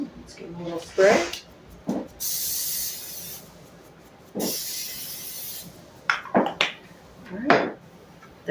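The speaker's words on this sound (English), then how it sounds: "Let's give them a little spray." Two bursts of hissing cooking spray onto mushroom croutons, each lasting about a second or two, amid a voice talking and light clinks of kitchenware.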